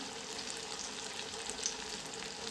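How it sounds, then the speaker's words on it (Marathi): Sabudana vadas fry in oil over a slow gas flame, making a soft, even, continuous sizzle close by with no voices. "हळूच तेलामध्ये सोडून घ्यायचे आहेत आणि गॅसचा फ्लेम स्लोच केलेला आहे मी स्लो फ्लेमवरच तळून घेणार आहे"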